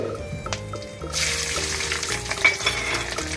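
Mustard seeds, curry leaves and garlic sizzle loudly in hot oil, a steady broadband fry that swells after a brief quieter start, with faint kitchen clinks and background tones.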